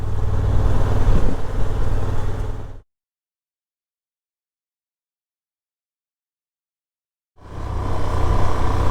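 Adventure motorcycle on Metzeler Karoo Street tyres riding a gravelly, sandy off-road track, its engine and wind rumbling loudly and steadily, cutting to dead silence for several seconds midway before the same loud riding noise resumes.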